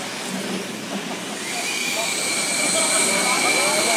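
A steady, loud jet engine roar with a rising high whine and hiss, from a Segway racing event, growing slightly louder over a few seconds while a voice speaks over it.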